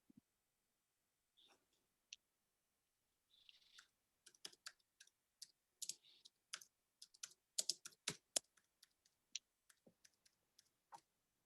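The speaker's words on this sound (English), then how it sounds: "I hear people typing." Quiet, irregular clicking of keys being typed on a keyboard, sparse at first, then faster bursts of keystrokes.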